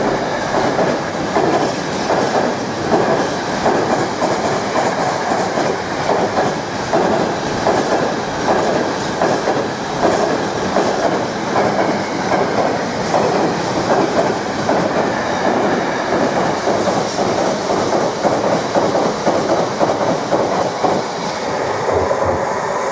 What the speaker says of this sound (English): the train about to pass through now is intermodal service 4Echo 21 from Felixstowe North Terminal to Tinsley Yard